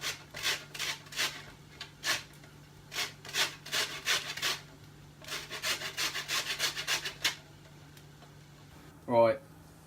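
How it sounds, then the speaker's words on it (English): Lemon zested on a cheese grater, with a series of short, soft scraping strokes in quick runs, close but faint, followed by a brief knock near the end. "I'll try and zest this lemon."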